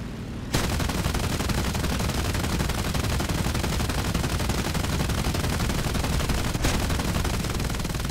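Aircraft cannon and machine gun fire in the War Thunder air battle game, a loud, continuous rattling barrage that starts abruptly and rolls on almost without pause.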